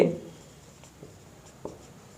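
Chalk or marker writing on a board during a classroom lesson, faint scratchy strokes with a few soft taps against a quiet room.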